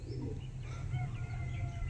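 Kasuri Kalsira pigeons cooing softly at close range, a low steady murmur with faint chirps over a constant background hum.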